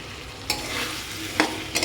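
Tripe sizzles steadily in hot oil in a pan, with a few sharp scraping strokes of stirring close by and no talk.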